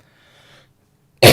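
A single sharp, loud cough bursts out at the very end during a livestreamed stake pool update, after a faint murmur and a stretch of near silence.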